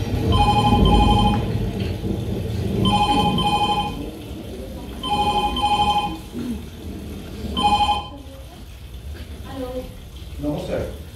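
A telephone rings in a stage drama, sounding in repeated bright ring bursts at regular intervals over a steady rain-like hiss before falling silent.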